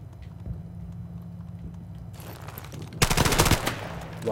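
M4 carbine gunfire in Call of Duty 4 Remastered: a quiet stretch with faint scattered shots, then a loud burst of rapid close automatic fire near the end.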